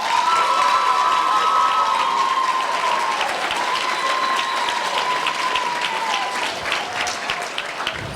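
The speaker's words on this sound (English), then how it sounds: "How about another round of applause for Alicia?" Sustained audience applause fills a school and college symposium hall, steady and dense throughout with faint scattered cheers and a brief voice, gradually thinning slightly toward the end.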